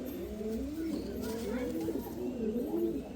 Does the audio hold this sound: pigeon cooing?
yes